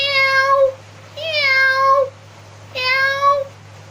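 A human voice imitates a mother cat's meow answering a kitten: three loud, drawn-out meows close to the mic, each a rising-then-falling wail with short pauses between them.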